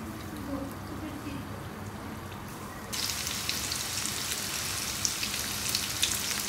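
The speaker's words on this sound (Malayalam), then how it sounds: "ഓയിൽ നല്ല ചൂടായിട്ടുണ്ട് ഇനി ചിക്കൻ ഇട്ട് വറുത്തെടുക്കാം" Flour-coated chicken pieces frying in hot vegetable oil over a high flame, a steady close crackling sizzle that grows louder about halfway through, with sharper pops over a low background hum.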